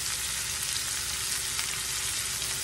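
Hash brown potatoes frying in a pan with onion, a loud, dense, steady sizzle and crackle heard close up without pause.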